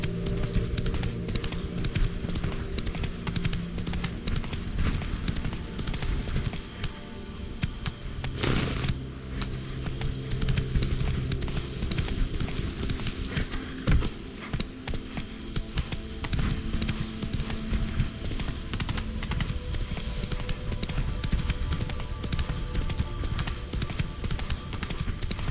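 Roach, the horse in The Witcher 3, gallops in a steady, continuous clip-clop of hooves under game ambience, loud and close for the whole stretch.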